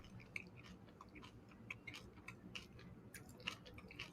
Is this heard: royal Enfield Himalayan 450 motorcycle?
no